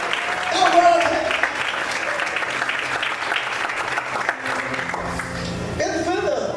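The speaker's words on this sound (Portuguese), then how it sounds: "Quem crê nessa palavra, aplauda e glorifica o Senhor essa noite." A congregation in church breaks into applause during an evening service, a rush of many hands clapping that rises at first and continues steadily, with a preacher's voice talking over it.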